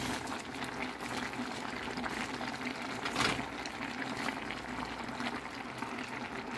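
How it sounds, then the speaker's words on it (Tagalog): Chicken pochero simmering in a pot, heard as a continuous bubbling boil with watery churning at moderate loudness and a short louder surge midway. "Papakuluan natin ulit for 3 minutes."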